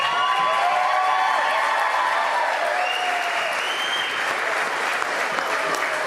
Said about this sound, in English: Let's give one more round of applause to this year's senior class